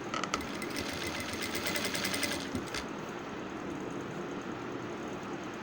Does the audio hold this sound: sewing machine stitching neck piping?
yes